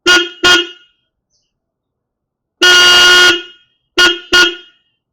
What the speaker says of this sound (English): Now the horn is replaced. Let's start the bike and see.